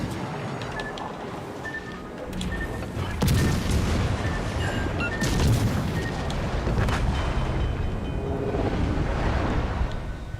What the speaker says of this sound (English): Why is he torpedoing me?